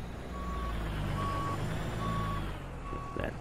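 A truck in American Truck Simulator, a W900 hauling a dozer, backs up with steady evenly spaced reversing beeps over a low diesel engine idle, heard clearly with no talk.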